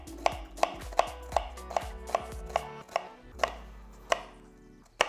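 A knife slicing an onion for a basic tomato sugo, about a dozen crisp, evenly paced chops striking a cutting board, close and clear with no talk.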